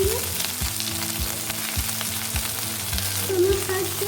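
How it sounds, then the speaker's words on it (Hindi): Soybean chunks frying in hot oil, an even close sizzle punctuated by periodic spatula taps and scrapes on the pan. "जो बाकी के बचे हुए सोयाबीन थे, इसे भी फ्राई कर लेंगे"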